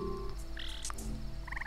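A frog in the Worms Revolution video game gives a short sequence of croaks and chirpy calls, close and clear over a low background hum, with no one talking.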